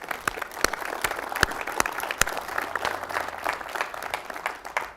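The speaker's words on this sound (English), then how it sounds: "please stand for a round of applause" Audience applause fills a conference summit hall, a steady wash of many hands clapping with sharp individual claps standing out, loud and sustained throughout with no talking.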